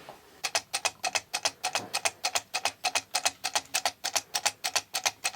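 A handmade automaton mechanism clicks and clacks in a rapid, regular series of sharp close taps, a steady mechanical rhythm with no voices.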